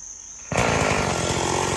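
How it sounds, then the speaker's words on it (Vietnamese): A chainsaw roars to life after a brief quieter moment and keeps running loud and steady, close by, with a sharp buzzing whine, cutting a large, tall star apple tree in Tiền Giang, Vietnam. "Hôm nay theo em Cường đến quen Cường cưa cây vú sữa."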